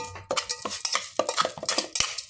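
Sticky minced larb (koi) being stir-fried in a pan, with rapid, irregular clanks and scrapes of a spatula against metal, loud and close, and no talking.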